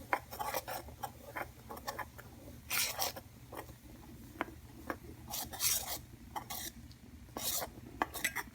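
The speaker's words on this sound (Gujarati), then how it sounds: "એને આપણે આમ ધીરે ધીરે હલાવવાનું." Dhokla batter for khata dhokla being stirred slowly by hand after water is poured over it, with soft intermittent scraping and rasping strokes of a spoon against the bowl, close and fairly quiet, no talking.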